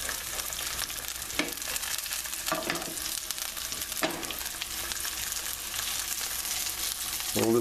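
A cornstarch-thickened sauce with sherry, for lobster and shrimp Cantonese, sizzles and bubbles in a pan with a steady hiss and occasional stirring scrapes, no voices.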